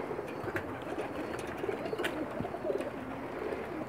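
Faint, soft cooing of Pakistani pigeons on a rooftop over a low rustling background, several short murmuring calls close together.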